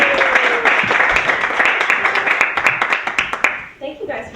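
A storytelling-night audience claps to welcome a host onstage, the applause fairly close and full before tapering off, with a few voices audible as it dies down.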